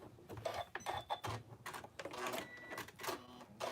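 A sewing machine stitches across a seam of a fabric face mask, a quiet, uneven run of rapid clattering bursts with short pauses between them.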